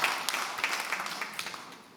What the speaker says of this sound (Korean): 우리 다시 한번 환영의 박수, 축하의 박수 하겠습니다